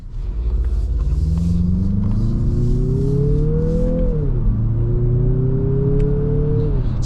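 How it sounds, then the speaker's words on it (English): A turbocharged 2026 Mazda CX-50 SUV with a 6-speed automatic accelerates, its engine droning steadily under load, pitch climbing, dropping briefly at a gear change, then rising again, loud and close throughout. "let's see a quick acceleration in the CX-50. I doubt it's going to sound that good"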